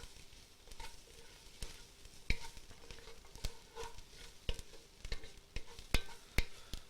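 Garlic and onions cook in a pot for mushroom risotto, giving a steady low sizzle with sharp clacks of stirring spaced every second or so. No one talks.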